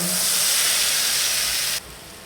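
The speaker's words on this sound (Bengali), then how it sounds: "এখন এই তেলে মশলাটা দিয়ে দেব।" Spice paste hitting hot oil in a pan for a taki fish and kalai greens dish, a loud close hiss that cuts down abruptly to a softer steady sizzle.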